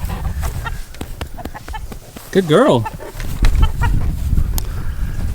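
A rooster and chickens on a farm cluck and call, with one loud rising-falling crow-like squawk near the middle amid rough wind-buffeted background, while a person briefly speaks.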